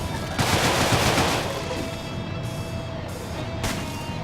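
Gunfire from the video game Deadbolt comes as dense, continuous rapid shots that stay loud throughout, with brief bursts standing out over the steady barrage.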